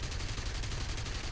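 Aircraft cannon fire in the War Thunder flight combat game, a dense continuous rattling burst of rapid shots, loud and unbroken across the short moment, with no talk over it.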